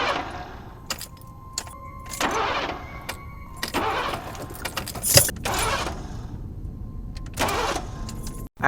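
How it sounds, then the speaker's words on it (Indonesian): A car with a bad battery fails to start: the starter cranks in repeated short bursts that never catch, keys jangle between tries, and the cabin stays otherwise quiet. "Namun sayangnya, aki mobil Angela yang bermasalah menyebabkan mobilnya tidak dapat dinyalakan."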